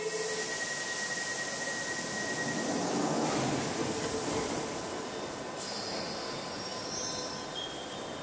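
Hype train sound effect in the Metal Gear Survive video game: a steady loud rumbling, hissing train with squealing wheels, rising slightly midway and then shifting tone near the end, with no talking.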